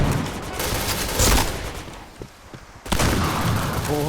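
Gunfire crackles in a shooting video game in a headshot-only mode, with rapid bursts of shots at the start, a quieter stretch of a few isolated cracks, then another loud burst of firing.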